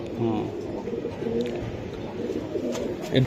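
A red-necked pigeon, a Giribaz high-flyer, coos repeatedly in soft, low, rhythmic phrases close by, under continuous talking voices.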